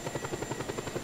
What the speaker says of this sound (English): I'm right here with the chopper, though.